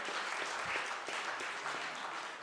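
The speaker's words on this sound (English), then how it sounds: "So everybody, please give Brian a round of applause for helping out with the brochure." An audience applauds steadily at a Black Hall of Fame ceremony for an alumni association, the clapping dense and continuous from a sizeable crowd, fairly loud and without talk.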